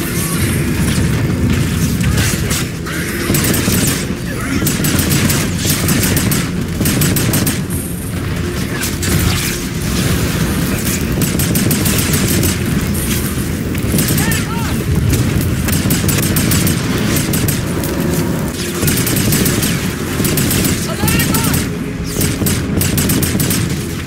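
Constant heavy gunfire and booming explosions from a sci-fi military shooter battle in Call of Duty: Infinite Warfare fill the scene, dense and loud throughout, with voices calling out over the din.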